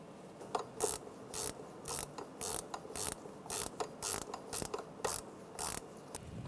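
A ratchet wrench clicks in quick repeated bursts while snugging a bolt on the knock sensor of a 1996-2002 Toyota 4Runner engine, the sharp ticking close and steady with short pauses between strokes.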